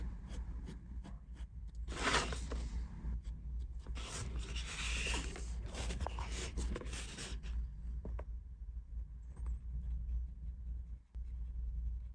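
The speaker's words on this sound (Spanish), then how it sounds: "Vamos a meter un poquito de sombra con el lápiz" Pencil shading on paper for a watercolor piece, heard as steady close scratchy rubbing strokes with brighter bursts early on, fading to quieter intermittent scraping near the end.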